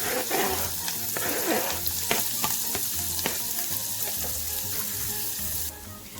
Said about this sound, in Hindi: ऑयल गर्म हो गया। अब मैं इसमें डालूंगी एक स्मॉल साइज का प्याज।